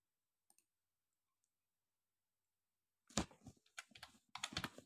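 Fingers typing the word Facebook on a computer keyboard: after a near-silent pause, a quick close burst of crisp key clicks, then a short pause and another cluster of taps.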